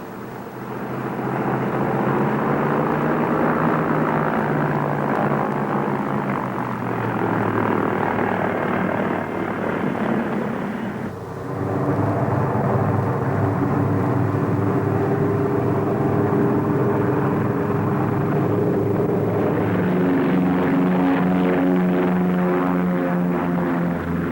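A propeller airplane engine drones steadily and loudly throughout, with a brief dip in the middle before the roar resumes and its pitch shifts as the plane moves off; no talk is heard.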